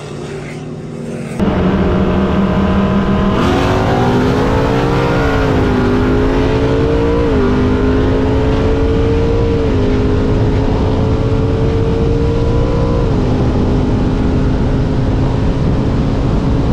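A Mustang GT 5.0 and a Camaro SS launch in a street race, their engines bursting into a loud, sustained roar that climbs in pitch and drops with each gear change as the cars pull away.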